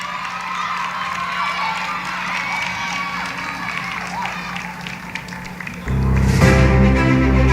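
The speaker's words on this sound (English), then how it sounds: "Continue the round of applause for your Golden Circle." Crowd cheering and applause at the 2022 ROWDYs awards evening, a dense roar of clapping and shouts that swells louder near the end, with a voice over it.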